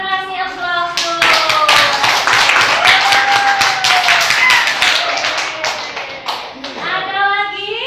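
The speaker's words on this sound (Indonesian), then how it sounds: "Kita kasih aplaus dulu." A class of children applauds, a dense burst of many hands clapping together for several seconds, with young voices calling out at the start and end.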